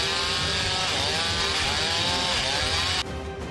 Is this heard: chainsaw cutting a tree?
yes